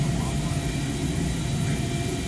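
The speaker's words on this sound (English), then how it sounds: "So I'm inside a C130." Steady, loud engine drone fills the cabin of a C-130 military cargo aircraft, a dense low rumble with broadband roar that holds constant throughout without pause.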